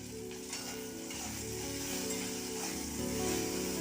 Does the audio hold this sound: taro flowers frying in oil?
yes